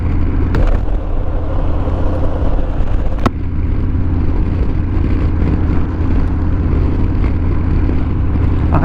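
A motorcycle cruising on the I-10 highway gives a steady, loud engine drone with heavy wind rumble, continuous and close, broken only by a couple of sharp clicks.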